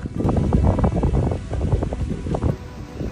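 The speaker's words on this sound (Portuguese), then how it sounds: "Mas confesso que eu não tava esperando esse vento sul forte agora não." Strong south wind roars steadily into the microphone outdoors at night, a loud continuous buffeting rush with gusty surges throughout.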